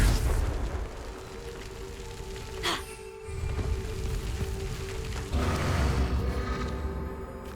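Confringo explosive spell blasts in Hogwarts Legacy: a sharp boom near the middle over a steady rumbling, rain-like game ambience, with the noise swelling again toward the end.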